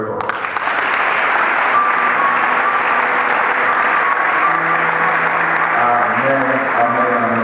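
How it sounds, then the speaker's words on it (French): An audience breaks into loud, sustained applause that fills the room and continues without pause, with faint tonal voices or music running underneath. "Je voulais vous demander de l'acclamer très fort."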